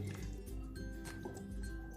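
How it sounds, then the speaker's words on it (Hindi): Half a cup of water poured into chocolate cake batter in a bowl, giving steady close dripping and liquid splashing sounds over two seconds with no talk. "हाफ कप पानी डालूंगी।"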